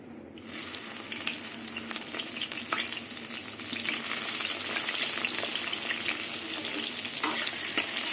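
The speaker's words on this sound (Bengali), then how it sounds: "এই তেলের মধ্যে আমি প্রথমে বেগুনটা ভেজে নেব" Eggplant pieces fry in hot oil in a home kitchen, a steady loud sizzle with soft crackles and stirring that starts abruptly near the beginning and continues without talk.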